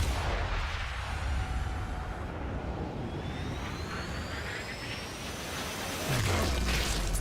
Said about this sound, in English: That explosion was so powerful, it broke all physics.